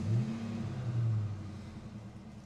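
A stock 4.6 V8 in a restored Ford Mustang Mach 1 runs nearby, a steady low rumble that swells slightly at the start and around one second, then settles into an even drone, alone with no talk.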